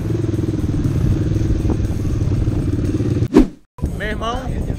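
A Honda CRF 230 off-road motorcycle runs on a dirt training track with a loud, steady engine drone, a sharp rising rev and brief cutout near the end before it picks up again, a voice speaking over it.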